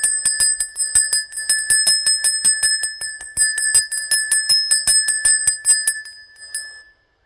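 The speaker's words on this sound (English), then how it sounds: "we are going to ring the bell in 1, 2," A bright metallic bell rings rapidly and repeatedly for several seconds, each strike clear and close, the strokes slowing and fading before stopping.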